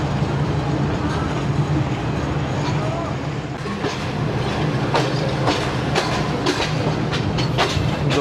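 Shalimar Express passenger train running on the ML1 line near Sadiqabad, a continuous loud rumble of wheels on rails with repeated clickety-clack rail joint knocks from inside the moving train.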